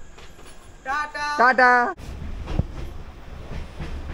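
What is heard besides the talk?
13147 Uttar Banga Express train running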